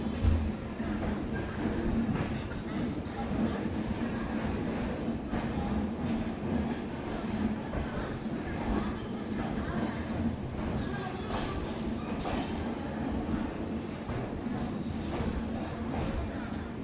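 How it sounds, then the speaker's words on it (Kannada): The Chamundi Express rumbles steadily as it departs Mysore Junction, a continuous moderate roll of wheels and carriages with faint rhythmic clatter throughout and voices murmuring in the background. "ನಮ್ಮ ಟ್ರೈನ್ ಮೈಸೂರು ಜಂಕ್ಷನಿಂದ ಹೊರಟಿದೆ"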